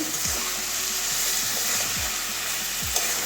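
Boiled potatoes drop into a sizzling pan of okra and soya chunk curry, setting off a steady loud frying hiss with a few stirring scrapes underneath.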